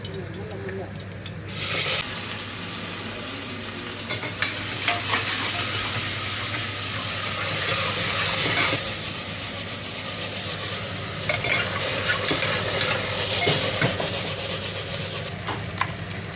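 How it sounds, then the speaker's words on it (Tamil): Tomato, onion, curry leaves and okra are stir-fried in a pan for a traditional mor kulambu with lady's finger. A steady loud sizzle runs throughout, with scraping and stirring noises close by. "நல்லா கலந்துட்டு தக்காளி, வெங்காயம், கருவேப்பிலை, வெண்டைக்காய் இருக்குது. இதை போட்டுடலாம்."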